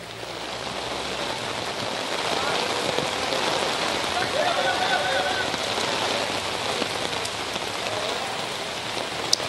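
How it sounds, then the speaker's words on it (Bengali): Heavy rain from Cyclone Remal pours down near the Chattogram port, a loud, continuous hiss of drops striking surfaces that swells slightly and holds steady throughout. "বৃষ্টি, ঘূর্ণিঝড়ের প্রভাবের কারণে"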